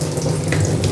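Hot water poured for upma in a kitchen, a brief close steady gushing stream with a bubbling, fizzing texture and no speech over it.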